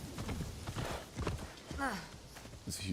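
Horse hooves clopping in Assassin's Creed Shadows, a quick uneven gallop under a voice, with a short whinny-like sweep partway through.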